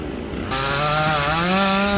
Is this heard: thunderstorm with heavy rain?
no